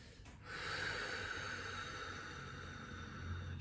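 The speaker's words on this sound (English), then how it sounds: "So let's take a few breaths here." A single deep, steady breath flows during a beginner low-back-friendly yoga stretch, a soft close airy inhale that holds on quietly after a brief catch at the start.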